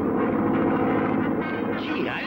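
A propeller plane engine in an old Three Stooges comedy film drones loud and steady, a rough continuous roar throughout.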